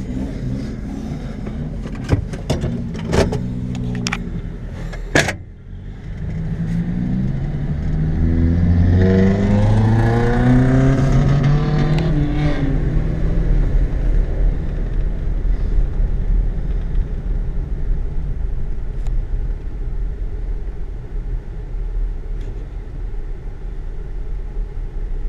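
Datsun 620 pickup with a swapped KA24 engine: a few sharp knocks, then a loud close engine note that rises through the gears as the truck pulls away, settling into a steady driving rumble.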